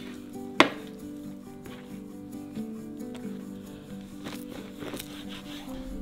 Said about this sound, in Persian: اینا به تیکه‌های کوچیک‌تری هم میتونیم تقسیم کنیم